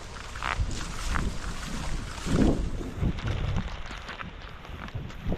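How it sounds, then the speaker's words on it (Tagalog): Steady gusting wind buffets the microphone, a continuous low roar that swells briefly in the middle, with no voices. "Mahangin lang talaga."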